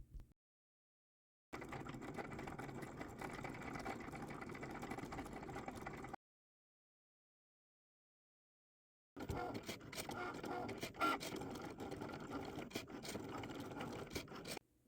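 A Cricut cutting machine slices holographic vinyl on a deeper-cut setting, a steady mechanical whir with scraping in two sustained bursts separated by a few seconds of silence.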